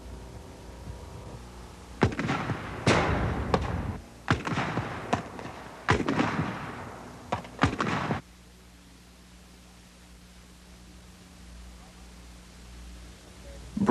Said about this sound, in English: Firing the law rocket is another thrill.